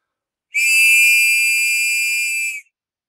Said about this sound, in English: Welcome to my Air Sea Rescue emergency whistle